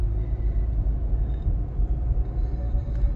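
A Maruti Suzuki car with an AMT gearbox drives along, its engine and road noise forming a low, steady rumble inside the cabin, with no distinct shift clunks standing out.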